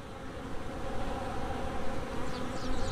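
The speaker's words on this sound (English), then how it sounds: "These bees are all over this hive" A large swarm of honey bees drones around a hive in a steady, dense buzz, fairly faint and continuous with no voices.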